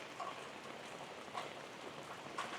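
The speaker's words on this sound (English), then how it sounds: "the rain is intensifying once again" Rain falling on and around an abandoned, decaying building in a rural South Carolina town, a steady soft patter with a few brief louder drips, fairly close and without talk.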